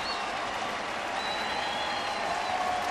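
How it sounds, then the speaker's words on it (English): Baseball stadium crowd at a Marlins versus Cardinals game cheering and applauding steadily, a broad continuous roar of clapping and voices that holds at an even level throughout. "The crowd into it."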